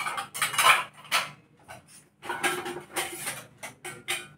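Washed metal utensils and dishes being stacked and set down in a home kitchen, with several clattering, clinking bursts separated by short pauses, close by, with no talking.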